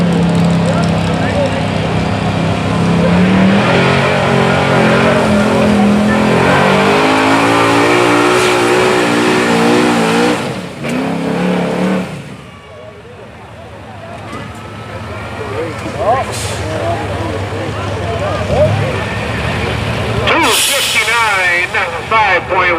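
Stock diesel pickup trucks, including a 1999 Ford F-250, revving and roaring at a truck pull in Osceola, Wisconsin, loud and close with rising and falling engine pitch, while an announcer talks over a PA throughout.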